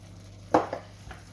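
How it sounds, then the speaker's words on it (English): Tinned tomatoes, black pepper and smoked paprika stirred in a pan on the stove, with one clear scraping stroke, a softer second and a faint third against a low background hum. "Give that a good mix"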